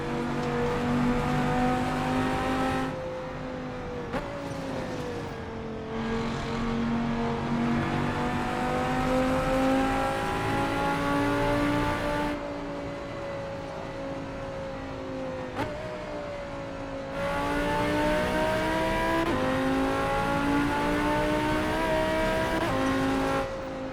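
An Audi R8 GT4 race car lapping the roller coaster section of Ozarks Raceway, its engine revving loud and close from the cockpit, pitch rising through each gear and dropping sharply on every upshift and lift, with brief tire noise.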